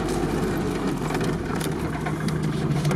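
A GAZ-69 off-road vehicle engine runs steadily with a low, rumbling hum and slight vibration, continuous throughout without speech.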